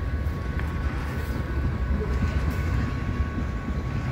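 A CP oil tanker freight train rumbles past with a continuous low roar and rolling clatter, loud and close throughout, with no voices.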